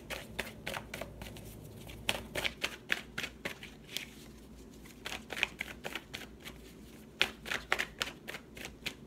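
Tarot cards shuffled by hand in a steady run of crisp riffles and flicks, close and moderately loud, with brief pauses between bursts and no talking.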